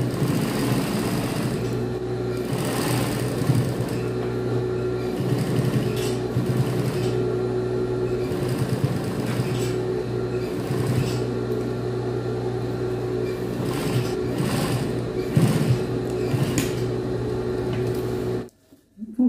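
Sewing machine running a long, large-stitch seam on a jeans waistband, a steady close mechanical whir with a constant hum that continues for most of the stretch before stopping abruptly near the end.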